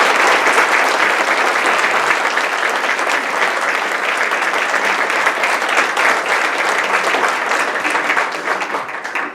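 A live audience at Crystal Gardens in Southgate, Michigan applauds Kim Hodous with dense, loud, sustained clapping that holds steady for the full stretch and eases slightly only at the very end, with no voices standing out.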